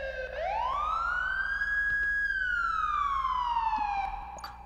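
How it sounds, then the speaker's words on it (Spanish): A police siren in Roblox rises sharply, holds a long wailing tone, then slowly falls, loud and clear with no talking. "¿Cómo quito la sirena?"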